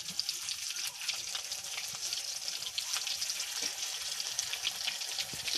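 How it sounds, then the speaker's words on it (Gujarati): Fritters frying in hot oil in a home kitchen give off a steady, close, crackling sizzle that continues evenly throughout, with scattered brighter pops and no talking. "હવે ગાઈસ આપણે એક એક સંભારની અંદર નાખી દઈએ તેલમાં"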